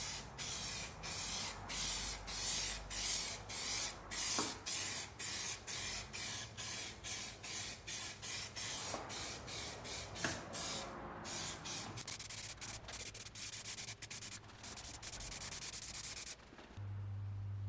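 Generic primer sprayed from a can onto a Saab 900 fender: a close hissing spray in a long run of short bursts with brief pauses, ending with a low hum.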